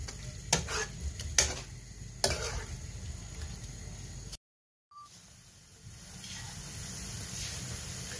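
Green curry paste stirred and sizzling in a pan while making Thai green curry, with a few sharp scraping strokes near the start, a brief silent gap, then a steady close frying hiss.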